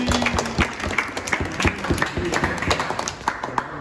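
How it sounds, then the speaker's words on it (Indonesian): Scattered applause from a small group in a classroom, uneven individual claps at close range, moderately loud with a few sharper hits. "Tepuk tangan buat ini."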